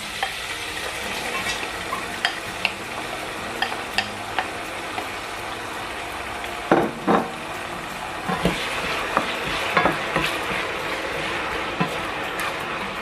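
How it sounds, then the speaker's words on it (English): Mixed peppers sizzle in an egg and tuna sauce, a steady frying hiss broken by scattered clicks and scrapes of stirring. "Then I'm going to be adding the mixed peppers."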